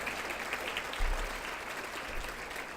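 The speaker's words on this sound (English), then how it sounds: "Let's give all the cooks a round of applause." Audience applause for the cooks at a regional Aboriginal recognition awards gathering, a steady wash of many hands clapping at moderate distance, fairly even throughout with a low rumble underneath.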